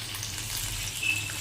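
Chicken pieces for chili chicken fry in hot oil, giving a continuous soft sizzle at moderate level, close and without talk.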